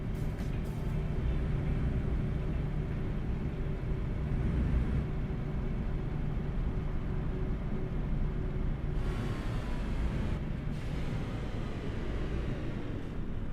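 A DAF XF105 truck driving in Euro Truck Simulator 2, its steady low engine drone and road rumble running continuously and fairly loud, with faint hiss changes partway through and no talk.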